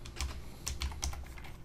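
Typing on a computer keyboard while entering CSS code, a short run of close, crisp key clicks in an uneven rhythm, with no talking.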